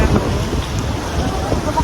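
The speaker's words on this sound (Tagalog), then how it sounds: "Ang lakas ng hangin." Strong wind buffets the microphone on a boat at sea, a loud rough rush with a voice briefly over it.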